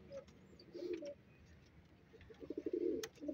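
Soft coos from breeder pigeons at night come in a few short bursts, a low throaty rolling call repeated near the start and again more strongly toward the end, over faint background noise.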